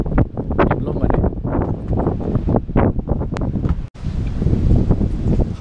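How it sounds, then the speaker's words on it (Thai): Strong gusty wind buffeting the microphone outdoors near an old bridge on a trip in Taiwan, a loud, rough roar in uneven surges with voices partly buried beneath it. "ที่นี่ลมแรงจริงนะ"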